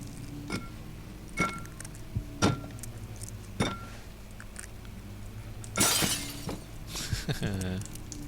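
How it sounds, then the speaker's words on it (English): Glass shatters in the dark horror game Amnesia: The Dark Descent, a bright crash near the end after several sharp clinks and knocks spaced apart, with faint movement between them. "Breaking the glass."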